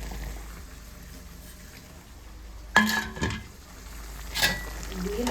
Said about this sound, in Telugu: దీన్ని అసలు స్లోగా కలుపుతున్నాను